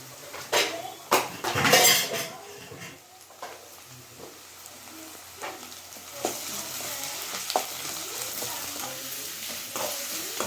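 Ginger garlic paste frying in a pan for a chicken liver gravy, with a steady hiss of sizzling oil and a few louder scraping, clinking stirs early on, close and without speech.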